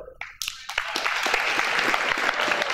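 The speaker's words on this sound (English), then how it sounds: "We can hold the applause till the end" Audience applause at a school assembly for a state championship football team, starting with a few scattered claps and swelling into steady clapping from a large crowd.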